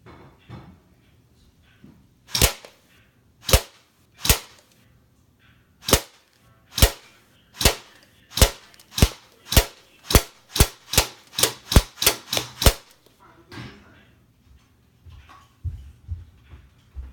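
An airsoft AEG rifle with crude AK-style sights fires BB rounds in a string of about sixteen sharp, loud shots, spaced out at first and then quickening into a rapid burst before stopping.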